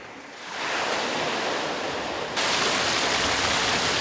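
Small waterfalls along a Scottish island coast pour and splash in a steady, loud, close rush of running water that gets slightly stronger partway through, with no voices.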